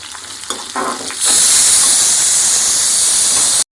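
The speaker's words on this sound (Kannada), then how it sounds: "ಚೆನ್ನಾಗಿ ಫ್ರೈ ಆಗಬೇಕಿದೆ." Byadagi chillies fry in a hot pan for a tempering, first with scattered crackles and stirring, then a loud, steady sizzling hiss that holds until an abrupt cutoff.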